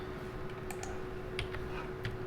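Several soft, scattered keystrokes on a computer keyboard, ending with a Ctrl+S save, tapped close by over a steady low room hum.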